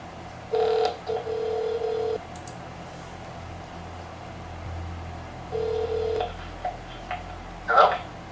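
Telephone dialing tones for a call-in show sound in two bursts of steady electronic beeps separated by a pause, followed by a few brief beeps near the end over a quiet background.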